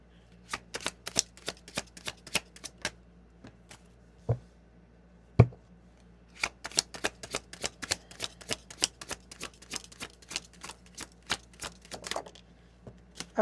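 Tarot cards are shuffled with rapid, crisp flicks and snaps in repeated bursts, close and clear in a quiet room, with a couple of heavier taps in the middle and no talking.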